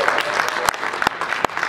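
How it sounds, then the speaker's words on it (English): Brief round of audience applause, a short burst of clapping heard at close range with a few sharper individual claps standing out. "a quick round of applause"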